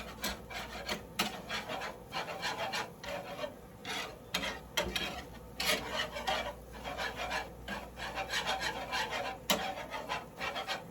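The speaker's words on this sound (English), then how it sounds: "Just keep whisking." A whisk scrapes steadily around a pan of cooking flour roux for seafood lasagna, producing a continuous, close, rasping swish with repeated short strokes and no voices.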